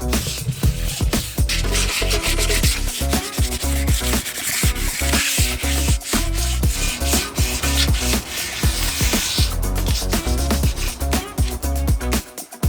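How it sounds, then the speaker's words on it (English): Continuous close-up rubbing of sandpaper across the back of a painted van wheel, a steady rasping scrub with rhythmic strokes that runs throughout, no speech. "I had to sand the back of it"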